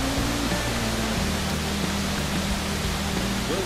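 Mountain waterfall cascades beside a trail during an ultra trail race in the Haut Giffre, a dense, constant roar of rushing water filling the whole clip with no voices.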